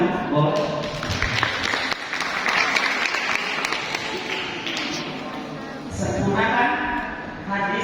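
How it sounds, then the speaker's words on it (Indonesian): Applause from an audience at a Qur'an knowledge quiz final in Tangerang, a steady broad wash of clapping lasting several seconds, with a brief lull and a swell near the end. "Tepuk tangan, boleh."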